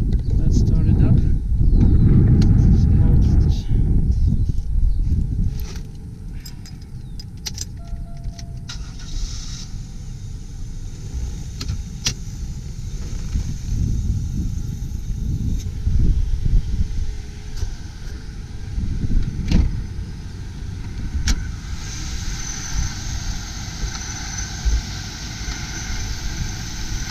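Supercharged engine of a 2000 Buick Park Avenue Ultra starting with a loud crank and catch, then settling into a smooth, steady idle with some wind noise.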